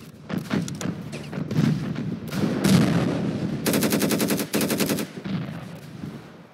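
Automatic gunfire from the video game Ravenfield: scattered shots and short bursts give way to a sustained, evenly pulsed stream of rapid rounds, loud and close, briefly broken before a final burst that tapers off.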